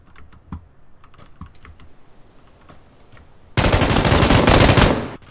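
Gunfire in the video game PUBG on a bridge: scattered keyboard taps give way to a long, loud, dense burst of rapid automatic fire that cuts off abruptly.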